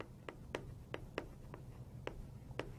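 Marker or chalk writing on a board during an accounting lesson, a quiet series of short scratchy strokes at an irregular pace, fairly close with low room hiss behind.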